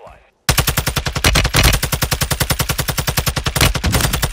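A Fennec 45 submachine gun in Warzone 2 fires a long, rapid burst of loud, evenly spaced shots after a brief quiet moment, the rattling stream continuing almost without a break.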